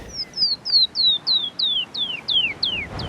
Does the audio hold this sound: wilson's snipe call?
yes